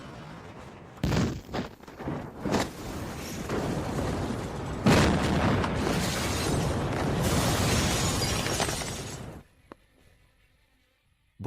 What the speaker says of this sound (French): Bombe directionnelle.